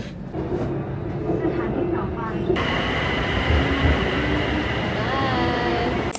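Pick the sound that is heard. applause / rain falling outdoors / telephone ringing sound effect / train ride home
train ride home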